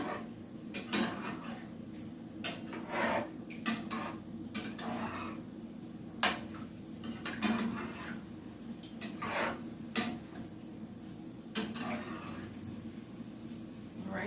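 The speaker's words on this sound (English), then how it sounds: "now we're gonna mix everything in here together" Browned beef stew mixed in a pot, repeated irregular scrapes and clanks of a utensil against the pot over a low background hum, continuing throughout.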